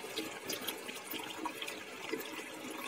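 Water poured into a cooking pot while making kadhi pakora curry, a faint continuous splashing trickle with no talk over it.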